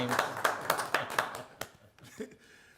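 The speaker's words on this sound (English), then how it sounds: "I clap by myself because I like to" A single person claps alone at a school board meeting, about eight sharp, fairly evenly spaced claps close by over a couple of seconds, then a brief pause and a few softer taps.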